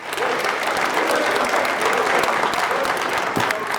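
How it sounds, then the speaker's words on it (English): The audience at a city council meeting gives a dense, steady round of applause, loud and continuous from start to finish. "Let's give him a round of applause."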